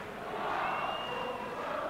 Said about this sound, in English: Massive crowd in here.